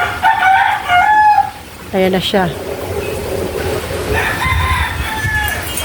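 A rooster crows loudly once, close by, between stretches of people chatting and other chickens clucking in the background.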